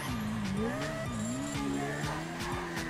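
A car engine in Grand Theft Auto V revving hard, the pitch climbing and dipping while tires squeal, with sharp thumps and knocks through the sustained roar at moderate level.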